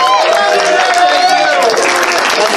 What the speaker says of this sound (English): give Dragger a round of applause